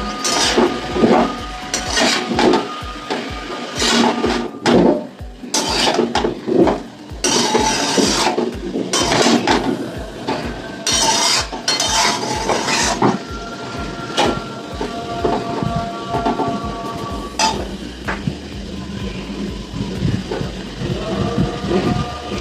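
Fried rice being stirred in a pan, with a rapid rhythmic clatter of a spoon scraping and knocking against metal. The strokes are loud and close and continue in busy bursts throughout, with no speech.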